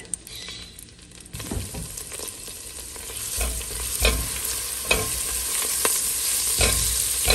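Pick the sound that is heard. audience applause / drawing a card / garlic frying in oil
garlic frying in oil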